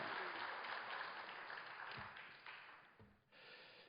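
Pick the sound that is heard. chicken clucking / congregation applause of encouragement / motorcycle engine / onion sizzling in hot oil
congregation applause of encouragement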